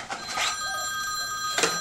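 A telephone rings in a room, with steady electronic ring bursts at the start and again near the end, with no talk.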